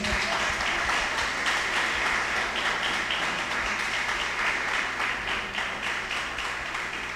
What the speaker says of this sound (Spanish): Aplauso para el Rey de Reyes, hermano